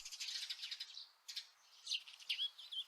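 Birds chirp at dawn in a calm ambient soundscape, a steady layer of high, bright tweets and trills with several overlapping calls, no voices.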